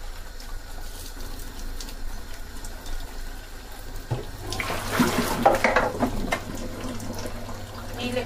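Water is poured into a cooking pot holding rice: a quiet steady background gives way, about halfway through, to a louder, broad splashing pour that runs to the end.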